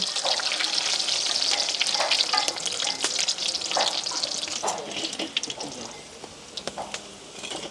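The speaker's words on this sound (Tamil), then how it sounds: "இப்படியே எல்லா இறைச்சியும் பொரிச்செடுப்போம்." Steady crackling sizzle of meat frying in hot oil, loud and close, with occasional clinks and stirring sounds and no talking.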